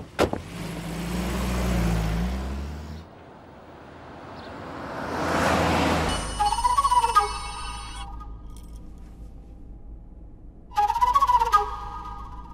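A telephone rings in a home setting in short bursts, an electronic trilling tone heard twice with a pause between, following passing car engine noise.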